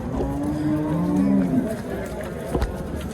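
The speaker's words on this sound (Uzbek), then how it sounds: "Ikkinchi qoringa molimiz. Buzoqchasi." At a Friday livestock market in Pastdargom, Samarkand, a cow gives a long, drawn-out moo that rises and falls, with quieter crowd chatter and market bustle underneath.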